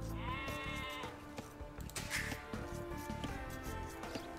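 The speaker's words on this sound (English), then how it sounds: "And I got all my sheep and rams." Sheep bleating in the Age of Empires 2 Definitive Edition strategy game, several repeated bleats sounding steadily over continuous game music, fairly loud and close throughout.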